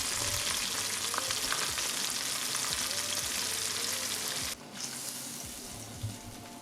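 Catfish nuggets fry in hot oil with a steady, dense sizzle, near and loud, dropping off briefly partway through before the crackle carries on.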